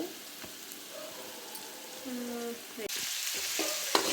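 Cauliflower and vegetables sizzle steadily in a pan, frying for fried rice, with stirring scrapes and a louder hiss swelling near the end.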